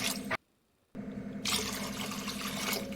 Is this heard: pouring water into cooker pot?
yes